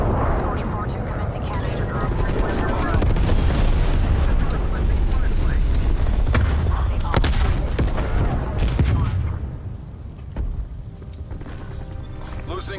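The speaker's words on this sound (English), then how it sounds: "Release napalm strike on my mark" A napalm strike in Call of Duty sets off a long, heavy rumbling roar of explosions, loud and sustained, with gunfire cracks mixed in before it fades to quieter battle noise.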